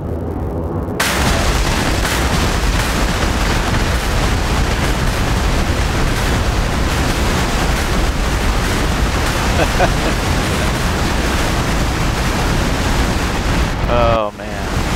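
CBU-97 cluster bomblets detonating in an F-16C flight simulator, a loud, continuous roaring wash of overlapping blasts that starts abruptly and rumbles on for many seconds before cutting off.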